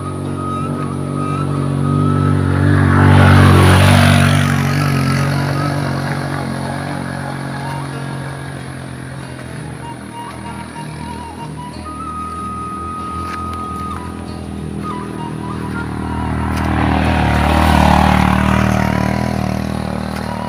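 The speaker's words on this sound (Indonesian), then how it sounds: "Ini di belakang saya ada motor nih." Motorcycle engine climbing a steep uphill road, droning loudly as it approaches, fading into a quieter stretch, then swelling again as another pass comes close.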